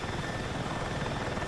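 Helicopter in the Battlefield video game, a steady rotor and engine drone with rapid blade chop, sustained at even loudness and heard alone.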